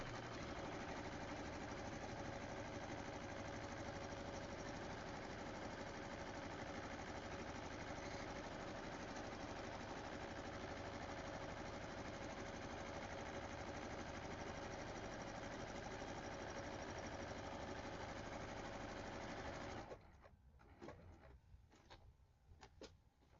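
A sewing machine zigzag-stitching a pillowcase at a one-inch width runs in a steady, close mechanical whir for about twenty seconds, then stops, leaving a few soft handling knocks.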